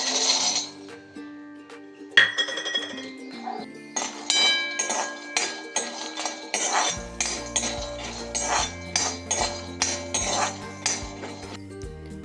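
Peanuts dry-roast in a pan with a run of sharp metallic clinks and scrapes, steady and close, as a utensil stirs and tosses them.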